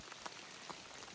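Rain falls steadily on the Appalachian Trail near Unicoi Gap, a soft, even hiss with faint scattered drop taps, quiet and with no talking.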